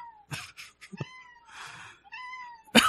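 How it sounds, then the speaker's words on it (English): A cat meows several times nearby, with drawn-out, wavering calls and a few short breathy sounds between them, ending in a sudden louder noise. "You might hear a cat."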